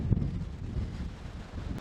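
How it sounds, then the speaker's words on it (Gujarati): Strong gusty wind buffets the microphone outdoors where peanut sukhdi is being prepared, giving a continuous low roaring rumble that swells and dips throughout with no voices. "જો તમે જોઈ શકો ભાઈ પવન કેટલો છે કંટ્રોલમાં નથી"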